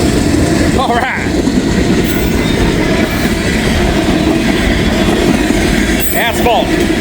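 Freight train with a distributed power unit rolling past close by, a loud steady rumble of railcars with clattering wheels and brief squeals, continuous throughout with no speech over it.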